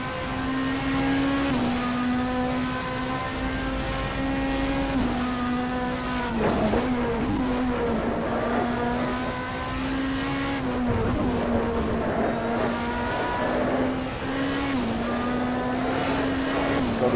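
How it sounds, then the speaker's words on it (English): A BTCC Super Touring car in a racing sim growls at low revs around Croft's final hairpin, a steady buzzy engine drone that dips and rises with gear changes and lifts, with faint tire noise underneath. "That growl it makes at the lower revs and the final hairpin"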